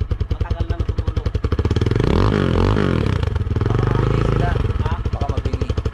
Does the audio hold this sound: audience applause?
no